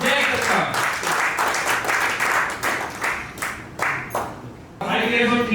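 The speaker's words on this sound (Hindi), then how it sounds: "तो आइए जोरदार तालियों से स्वागत करते हैं" Applause welcoming an honoree at a company anniversary celebration, a steady wash of clapping from a crowd that runs throughout, with voices and talk mixed in underneath.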